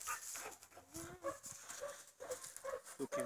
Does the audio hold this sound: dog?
yes